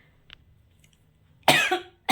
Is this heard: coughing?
yes